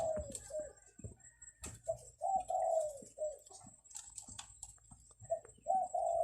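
Spotted doves give repeated soft, hollow cooing phrases in a rural setting, several calls in a row with short pauses, fairly close and clear over quiet background hiss.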